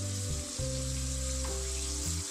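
Coated chicken drumsticks frying in oil give a steady, dense sizzle that runs without break, fairly quiet and close, with a faint low hum beneath and no talking.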